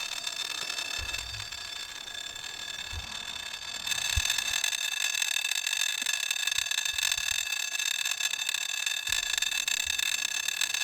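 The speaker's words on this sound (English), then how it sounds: "The noise you are hearing is a safety brake on the winch" A sailboat winch's safety brake ratchets under strain while the boat is hauled out at the end of the season. A steady metallic buzz is broken by low knocks and clunks, and it grows louder partway through.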